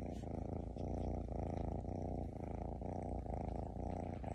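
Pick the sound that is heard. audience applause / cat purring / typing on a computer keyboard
cat purring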